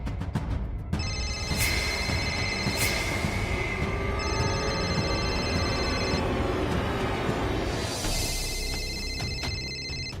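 A telephone rings in a domestic scene, repeated electronic ring bursts in steady cycles over a busy background hum, fairly loud and clear, with no speech.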